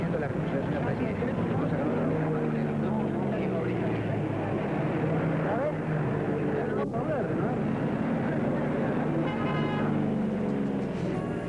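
Military airplanes flying low over the Casa Rosada government house in Buenos Aires, a steady broad engine roar holding throughout, with a voice speaking over it.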